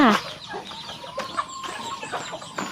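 Egg-laying hens cluck softly in short, scattered calls nearby on a small farm, with a brief louder squawk at the start and faint outdoor background noise.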